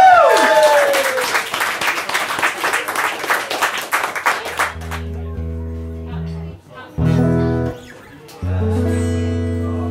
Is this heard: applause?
yes